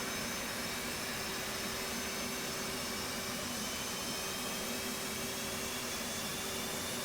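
An F/A-18 jet engine spooling up in the DCS flight simulator gives a steady, droning whine over broad rushing noise, with a constant low hum underneath and no voices.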